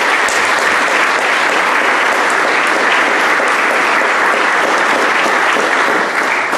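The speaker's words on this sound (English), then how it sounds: "please, a round of applause for all of our 2023 inductees." Sustained, dense applause fills a hall for the 2023 Brevard College Athletics Hall of Fame inductees, loud and steady from start to finish with no break.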